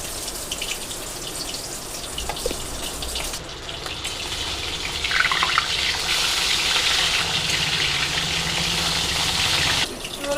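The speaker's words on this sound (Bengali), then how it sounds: "মিক্সার জার দিয়ে দেবো কাঁচা লঙ্কা, টমেটো, আদা, একটা রসুন আর একটা পেঁয়াজ" A kitchen mixer grinder jar whirs as it purées green chilli, tomato, ginger, garlic, onion and a little water, starting up, building into a loud, steady grinding rush for several seconds, then cutting off abruptly.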